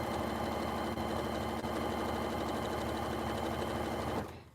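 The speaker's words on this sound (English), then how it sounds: "Sometimes I like to just listen to the sound of the sewing machine." A sewing machine runs close by with a steady, even mechanical whir and rapid stitching rhythm, then slows and stops near the end, with no talk over it.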